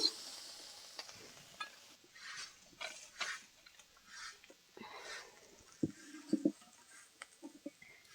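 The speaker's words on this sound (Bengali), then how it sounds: "এবার ভালো করে নেড়ে চেড়ে ভেজে নেব চিংড়ি মাছগুলোকে" Shrimp stir-fried with turmeric powder in a pan give a soft, faint sizzle, broken by repeated scraping and stirring strokes of a spatula and a few clinks against the pan.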